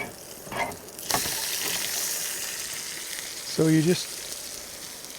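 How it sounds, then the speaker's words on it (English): Meat searing in a pan with a blend of Mexican spices at an outdoor campsite, a steady broad sizzle running throughout, with a person speaking briefly over it. "sprinkle them on that and then sear it. Blacken it on either side"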